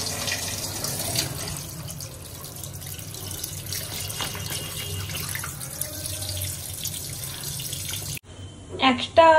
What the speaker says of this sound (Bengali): তাহলে জলের তলায় ভালো করে ধরি।